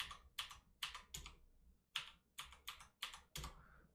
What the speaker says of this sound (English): to make a password for your root account, type passwd